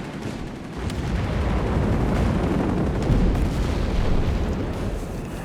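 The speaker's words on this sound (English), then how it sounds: "We got counter battery fire here on the howitzers." Counter-battery artillery fire striking howitzers in the video game Company of Heroes 3: a dense, continuous rumble of booming shell impacts and blasts that hold steady and loud, with no voices.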